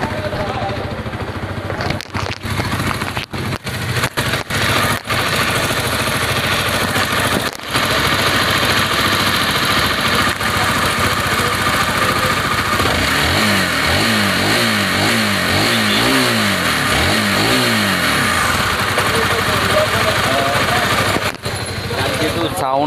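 A repaired motorcycle with 65,000 km on it idles roughly and close by, then revs up and down in a series of rising and falling swells, with a speaking voice partly over it.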